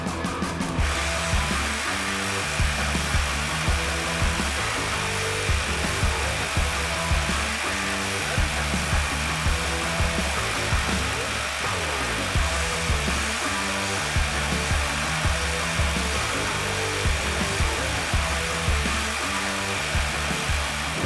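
A Milwaukee Fuel Sawzall and a Flex reciprocating saw run at full speed, giving a loud, continuous buzzing drone with a rapid, steady rhythmic pulse throughout.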